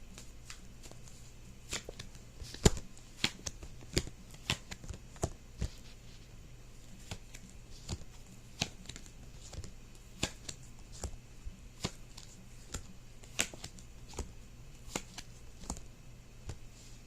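Tarot cards being shuffled in a series of crisp, sharp riffles and taps, irregularly spaced, close up and otherwise quiet.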